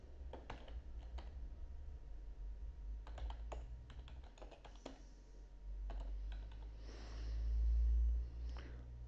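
Computer keyboard typing while filling in admin information, bursts of quick, light key clicks in irregular clusters separated by pauses, close and fairly quiet, with a low rumble swelling near the end.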